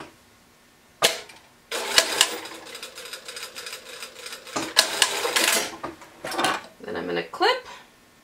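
A serger sews across a T-shirt neckline in several bursts of close mechanical whirring, stopping and starting between runs, with handling clatter and a voice heard at times.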